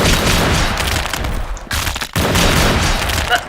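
Rapid, loud gunfire from the video game Jujutsu Shenanigans fills the stretch, a dense volley of shots with two short breaks before the firing resumes.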